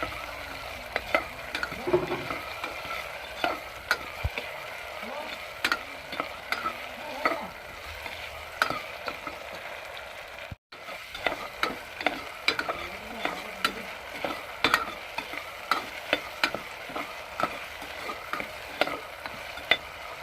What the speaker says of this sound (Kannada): ಹಾಕ್ಕೊಂಡ್ಬಿಟ್ಟು ಫ್ರೈ ಮಾಡ್ಕೊಟ್ಟೋದ್ರಿಂದ ಸ್ವಲ್ಪ ಫ್ರೈ ಆಗಬೇಕು.